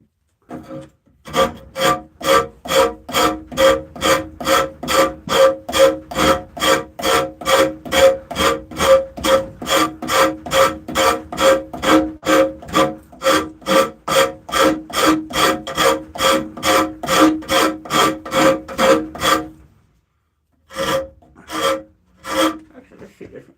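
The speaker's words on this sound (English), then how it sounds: "I'm getting ready to use my rasp." A rasp files a wooden battle spoon in fast, even back-and-forth strokes, a loud rhythmic scraping for nearly twenty seconds, then a short pause before a few more strokes.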